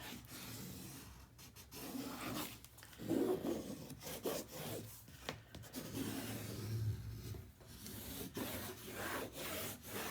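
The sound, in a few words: burnishing paper and ribbon on a mini album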